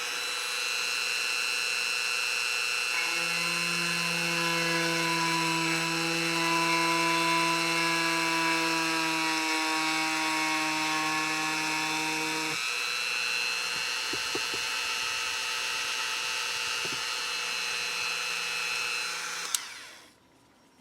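A high-pitched Dremel rotary tool carving polymer clay whines steadily, its pitch shifting partway through, then cuts off abruptly near the end.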